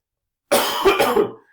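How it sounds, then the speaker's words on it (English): A lecturer with a cold gives a short, close, harsh burst of a few coughs, heard alone with nothing else around it. "I've kind of developed a cold today and I've been coughing a lot"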